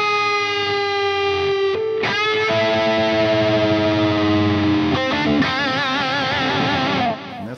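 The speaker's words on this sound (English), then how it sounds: "You're getting the fundamental note descending, and then you're getting the kind of secret harmonic that's ascending at the same time." Electric guitar lick, loud and distorted with effects, sustained notes where the fundamental slides downward while a harmonic rises above it, repeated twice before cutting off.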